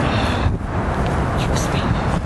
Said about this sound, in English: It's a bit windy out here, but not too bad.